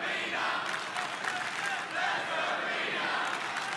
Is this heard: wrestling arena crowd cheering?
yes